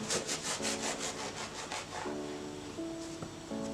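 A knife cuts through hamburger buns in rhythmic, sawing strokes for about two seconds. Soft sustained musical tones then continue on their own.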